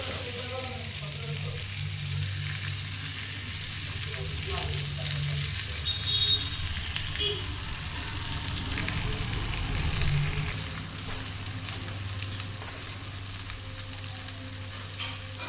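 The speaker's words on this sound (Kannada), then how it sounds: "ಎರಡು ಕಡೆ ಚೆನ್ನಾಗಿ ಬೇಯಿಸ್ಕೊಳ್ಳೋಣ." Ragi masala rotti cooks on a hot pan with a steady, even frying sizzle that runs the whole time, close and moderately loud, with faint occasional crackles.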